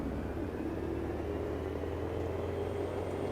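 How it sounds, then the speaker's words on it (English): Car engine with turbo in the racing video game AC Evo, a steady, droning rumble with a faint whine layered on top, holding at an even level throughout. "Listen to that turbo."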